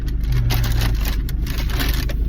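Steady roadside traffic rumble beside a northbound expressway near a Shell station, with cars passing continuously close by and a brief tonal hum near the start.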